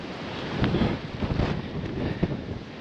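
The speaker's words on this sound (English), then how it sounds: "the wind has not abated one iota throughout the day" Strong wind blasts across a microphone on a coastal track, with rough low gusts that rise and fall in irregular bursts and a soft roar behind them and no voices.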